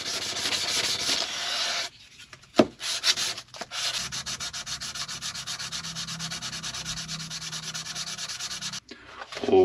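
Hand sanding of a knife handle with 220 grit sandpaper, a steady close scratchy rubbing in continuous strokes with a couple of brief pauses and a knock, no talking.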